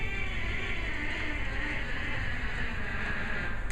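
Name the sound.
pipe organ stop sounding like buzzing bees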